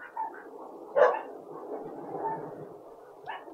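A dog barks a few times at close range outdoors during a delivery stop, sharp bursts over a steady street and engine rumble.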